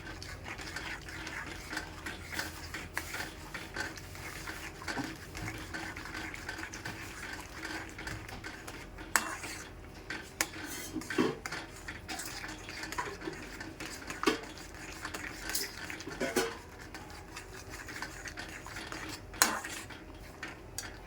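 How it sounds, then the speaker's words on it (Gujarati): A spoon stirs a dry fruit pickle with salt and turmeric in a metal pan, making faint, irregular clinks and scrapes with scattered sharper knocks against the pan. "હવે આપણે એને હલાવવાનું છે."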